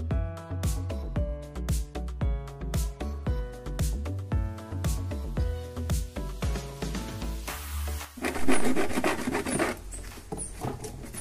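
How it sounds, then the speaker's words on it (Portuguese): A hand saw cutting off part of a lid, a rapid series of rhythmic rasping strokes close by, shifting to a denser scraping burst near the end. "Vamos tirar a tampa e vamos serrar toda essa parte."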